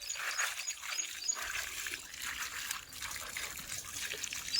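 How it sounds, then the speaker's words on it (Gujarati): Water trickles and splashes steadily from a small bucket onto feet being washed outdoors, a soft continuous pouring hiss with no talking. "આ ડોલ પાણીની ભરી લીધી છે આપણે પગમાં છે રેડશું પગ ધોઈ નાખશું"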